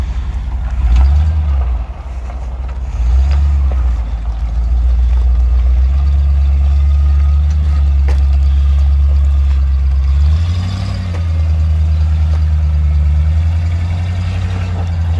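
A Bronco truck engine runs loud and close, a deep continuous rumble with slight rises and dips in revs over fifteen seconds.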